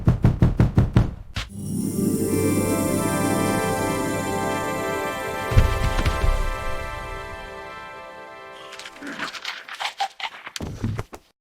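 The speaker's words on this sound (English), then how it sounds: "There's someone knocking at the door." Police knock hard and fast on a door in an animated cartoon, two loud rapid runs of close raps that open and close a long stretch of sustained droning music.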